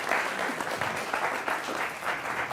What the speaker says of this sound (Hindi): तो जोरदार तालियों के साथ आपका भी स्वागत